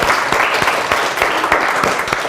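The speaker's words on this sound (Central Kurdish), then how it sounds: "یەک چەپڵە بۆ خۆتان لێدان مناڵ عەزیزەکان" Children clap for themselves in a burst of quick, dense, close applause that holds steady throughout.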